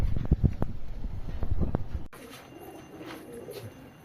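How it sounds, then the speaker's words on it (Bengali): Pigeons coo in a rooftop loft in a loud, close burst of throaty rhythmic pulses that stops abruptly halfway, leaving faint wind and quiet background noise. "মিডিলে মাদি পায়রা থাকে আমার"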